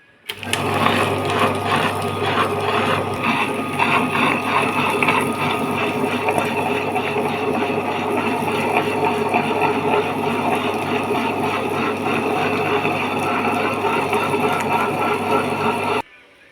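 A wet grinder churns black urad dal into coarse batter for vada, a steady close mechanical whir with a rhythmic rumble that runs evenly throughout and stops at the end.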